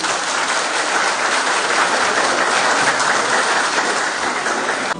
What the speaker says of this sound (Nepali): उहाँलाई तालीद्वारा स्वागत गरौँ।